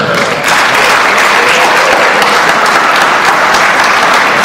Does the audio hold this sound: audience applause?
yes